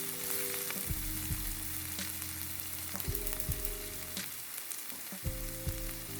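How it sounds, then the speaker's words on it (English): Onion frying and sizzling steadily in a pan for a vegan quinoa mushroom dish, with the crackle continuous and fairly loud and occasional scraping and stirring sounds breaking through. "During this process, I will be stirring the onion to make sure it is caramelized nicely."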